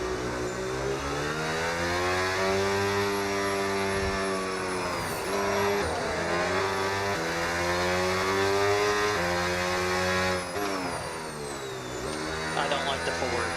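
A Ford Mustang GT3 racing car's engine in a racing video game roars loudly and close, revving up through the gears with clear shift drops and pulling on without a break.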